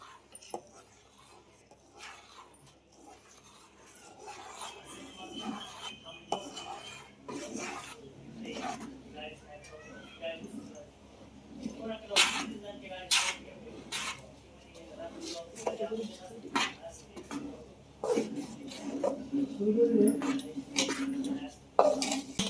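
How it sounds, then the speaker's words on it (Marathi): Ladoo flour mixture being stirred in a pan for damatya ladoo, with intermittent scraping and clinking against the metal that continues steadily at close range throughout. "तर लाडूचं पीठ टाकून घेऊ. हलवीत राहायचं सारखं"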